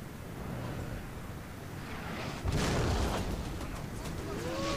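Muffled artillery guns firing in Napoleon: Total War during a battle against Russia, a deep boom rising over a steady roar of battlefield noise, followed by fainter rumbling.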